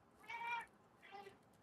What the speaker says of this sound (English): Look, guys, here's the kitty cat.